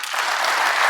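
Loud, dense applause from an audience at a training seminar, a close wash of many hands clapping steadily throughout.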